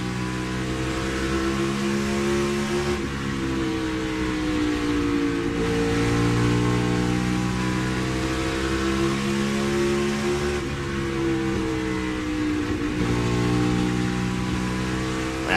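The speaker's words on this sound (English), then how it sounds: "Listen to how quick he gets back in the throttle." NASCAR stock car engine heard onboard during a qualifying lap at the night race, a loud sustained harmonic roar that rises and falls through gear changes and corners, lifting off briefly and snapping back to full throttle.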